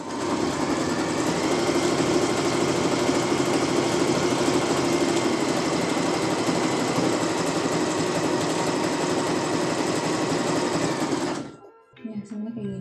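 Janome RE1312P portable sewing machine stitching steadily, a continuous close whirring drone for about eleven seconds that stops abruptly, followed by faint handling noises.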